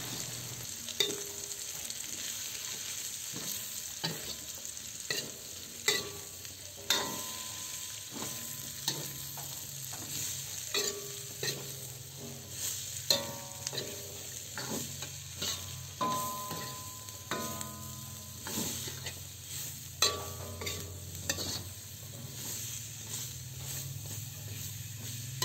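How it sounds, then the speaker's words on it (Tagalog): Sliced bitter gourd and pork being stirred in a frying pan, a steady sizzle under repeated scraping and clacking strokes of a utensil against the pan, close and continuous. "Ilagay na natin ang hiniwa natin na ampalaya. Haluin lang natin yan ng mga 2 minuto."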